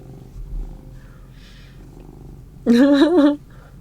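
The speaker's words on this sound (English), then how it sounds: "We got some pretty good Baney purrs going on here." A cat named Baney purrs softly for a few seconds, low and steady, then lets out a brief, louder, tonal vocal burst near the end, heard close and alone.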